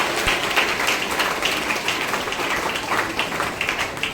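A church congregation claps together during a Thursday worship meeting, a steady dense wash of many hands applauding for several seconds at moderate loudness, with no distinct voices over it.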